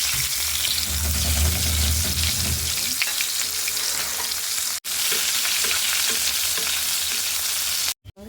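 Chicken coated with flattened rice fries in hot oil, making a loud, dense, close sizzle that holds steady throughout, with a brief dropout partway and a short break near the end.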